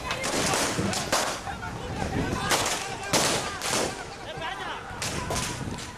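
Indonesian police fire shots into the air to disperse a KNPB demonstration in West Papua, several sharp cracking reports over a noisy, agitated crowd with voices throughout.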